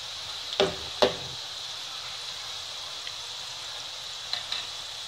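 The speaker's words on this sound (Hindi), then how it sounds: "आंच मीडियम फ्लेम से थोड़ी लो रखेंगे हम इन्हें बनाते वक्त, ताकि ये जले नहीं और अच्छे से ये हमारी डीप फ्राई हो जाए" Snacks deep fry in oil over a medium-low flame, a steady soft bubbling hiss with a couple of clear knocks and scrapes from a utensil near the start and faint clinks later.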